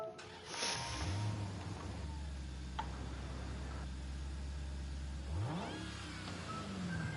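A Dodge Hellcat in Gran Turismo 7 revs loudly, its engine note sweeping up then holding a steady drone before another rising rev near the end.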